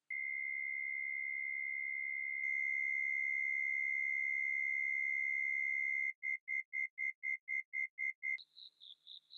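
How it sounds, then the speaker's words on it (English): An electronic steady tone shifts into rapid pulsed beeps, then a higher warbling trill, like synthetic cricket chirps made from a ring-modulated, slightly distorted sine wave. "For creating the actual cricket chirps, I applied some ring modulation to a sine wave and added some slight distortion."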